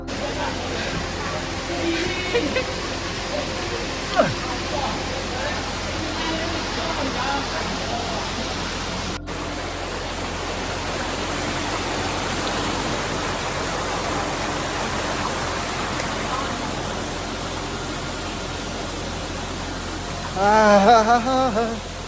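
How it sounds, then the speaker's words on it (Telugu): Bairagula Kona waterfall near Penchalakona, a steady broadband rush of falling water heard up close and continuous for the whole stretch, with faint voices and a brief louder splash near the end. "ఫైనల్లీ వచ్చేసాం బైరాగుల కోన వాటర్ ఫాల్స్"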